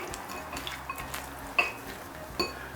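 A utensil stirs cayenne into coconut shrimp batter in a bowl, making quiet wet scrapes and a couple of light clinks against the side.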